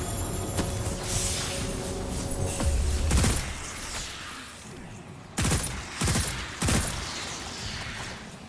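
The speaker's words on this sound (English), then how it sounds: "So if we fire a couple rounds like that, and then I sprint and slide, I'll get ammo back." Weapon fire in the video game Destiny 2, with a dense stretch of shooting and game noise followed by three sharp separate shots near the end, loud and alone with no voice over them.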